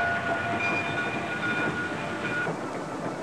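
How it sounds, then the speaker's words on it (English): White Pass and Yukon narrow-gauge railway train running through mountain country, a dense continuous rumble and rattle of wheels with faint sustained tones riding over it. "The White Pass and Yukon Railway, a narrow-gauge line connecting Skagway, Alaska with Whitehorse, Yukon Territory"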